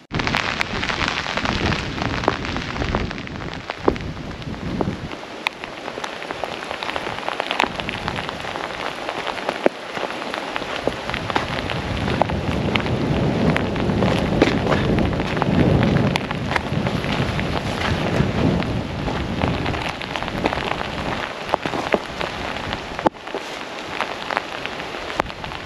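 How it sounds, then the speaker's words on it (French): Steady rain pattering down on leaves and ground outdoors, a dense continuous hiss with occasional louder drops and a low rumble. "peu de chance que la pluie s'arrête"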